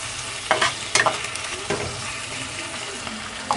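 Bean seeds and turmeric are stirred in a frying pan, a soft sizzle broken by several sharp scraping strokes of a spoon against the pan, close and without talk.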